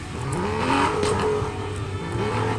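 An Aston Martin's engine revs in the racing game Need for Speed Most Wanted, rising and falling in pitch, steady and fairly loud with no talking.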